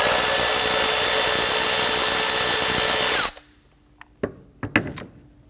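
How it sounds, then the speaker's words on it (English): Power tool runs with a loud, steady whine loosening 10mm bolts on a 2017-2020 Hyundai Elantra during spark plug replacement, then cuts off sharply and is followed by a few quick ratcheting clicks and metallic knocks. "There is a series of 10mm bolts. We're gonna use our socket,"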